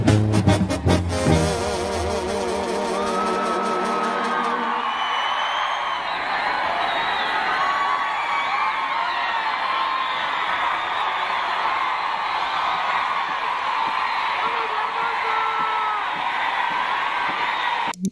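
A large concert crowd at a Jenni Rivera show cheers and shouts with whoops over lingering music at the start, a continuous roar of many voices at moderate distance.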